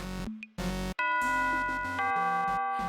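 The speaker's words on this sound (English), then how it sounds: "Just then, a chime echoed across the park." A chime rings across a park in Sweet Fuse, a two-tone ding-dong with a ringing tone that lingers and then moves into a sustained bright melody, with no speech.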